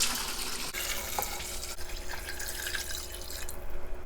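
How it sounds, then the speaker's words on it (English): Water pours steadily from a tap into a pot of Korean chicken soup, a continuous rushing splash that stays close and even throughout. "we're going in again with enough water to cover."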